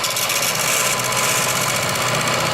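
A wood lathe running at 900 RPM while turning a maple vase makes a loud, continuous mechanical whir with a dense rattling texture, close and steady throughout the short stretch, with no talking.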